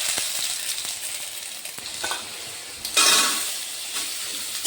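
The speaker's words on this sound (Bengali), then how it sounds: "ওই তেলের মধ্যেই আমি আলুগুলো ভেজে ফেলছি।" Potatoes frying in oil in a pan during home cooking: a continuous sizzling hiss with occasional small crackles, and a sudden louder surge of spitting partway through that stays high.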